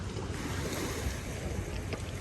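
Sea waves at Bang Saen beach in Thailand, on the Won beach side, keep up a steady wash of surf with wind noise across the microphone and no speech.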